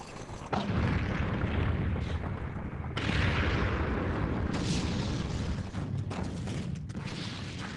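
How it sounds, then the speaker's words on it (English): An intense North Korean artillery and mortar barrage, heard as a dense, continuous roar of overlapping booms and rumbling blasts that stays loud throughout with no pauses. "North Korean Communist forces begin an intense barrage of artillery and mortar fire"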